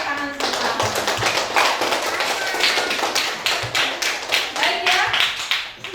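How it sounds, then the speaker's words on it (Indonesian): Students in a classroom clap for group 5 after a lesson on series circuits, a brisk burst of many hands with sharp individual slaps, close and lively, with a few voices mixed in. "Beri tepuk tangan semua"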